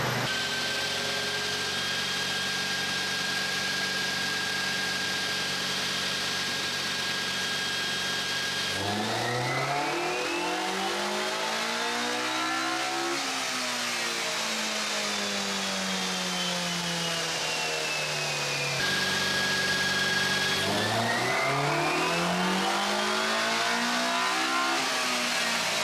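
A Toyota 86 fitted with a K24 engine and running on E85 revs hard on a dyno, climbing loudly through the rev range in long sweeping pulls, easing off, then winding up again, close and continuous without talk.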